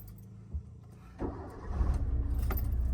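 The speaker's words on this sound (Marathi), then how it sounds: "गाडी तर चालू कर" A car is started with keys: keys jangle twice, then the engine cranks and catches, settling into a steady, close idle with no one talking.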